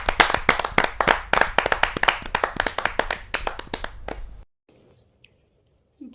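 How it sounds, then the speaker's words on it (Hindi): Applause from the audience greets a poet at a Kavi Sammelan gathering, with brisk, close clapping that stays loud for about four seconds and then stops abruptly into near silence. "जोरदार ताली के साथ हम उनका स्वागत।"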